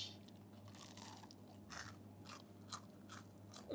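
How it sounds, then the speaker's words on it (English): Someone bites and chews crunchy Neapolitan pizza crust up close, producing a series of quiet, crisp crunches and crackles in a hushed setting. "The crust, it's crunchy."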